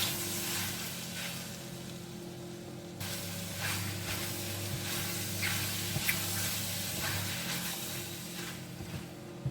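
Prawns, mussels and squid stir-fry in a hot pan, giving a continuous, fairly loud sizzling hiss with occasional crackles and spatters and some stirring movement, and no one speaking.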